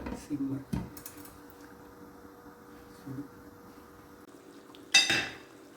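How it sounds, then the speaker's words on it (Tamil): A metal lid clanks down onto a pot of cooking Kashmiri pulao near the end, after a few softer clinks of kitchenware against a quiet background. "அப்படியே மூடி போட்டுடலாம்."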